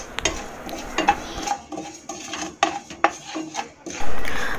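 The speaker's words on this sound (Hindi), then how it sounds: "इन सारे मसालों को भूनने के लिए मैंने यहाँ नॉनस्टिक कढ़ाई लिया है।" Whole spices dry roasting for garam masala in a nonstick kadhai, heard as light scraping, clinking and rattling as a spoon stirs them, irregular and close, with no talk.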